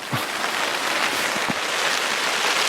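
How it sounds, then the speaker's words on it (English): Steady rain falls on an Alaskan hunting camp during a grizzly bear and moose hunt, a dense, even hiss of close drops with a few heavier pattering hits on a surface. "When it's raining a little harder, though."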